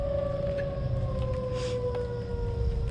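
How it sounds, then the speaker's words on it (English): Tornado warning sirens wail steadily at a distance, a sustained tone holding over a rumbling outdoor background throughout. "now the sirens"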